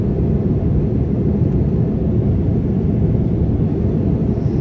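A steady, loud broadband roar fills an airliner cabin during a long overnight flight to Mumbai, with a low, unchanging rumble and no break throughout.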